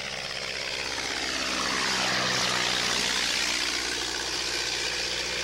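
A Wright Model B replica airplane flies past with a steady droning propeller engine that swells as it draws nearer and then eases slightly, a continuous buzzing roar with no voices.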